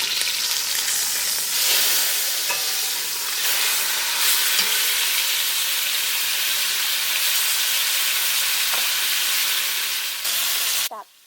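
Pot roast meat browning in a hot pan, a loud, steady sizzle and hiss that holds throughout, with a few faint clicks and a brief clatter near the end.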